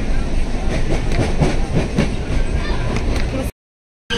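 A train rolls steadily along the rails with a continuous rumbling clickety-clack of wheels over track joints, fairly loud and close, before the sound cuts out abruptly near the end.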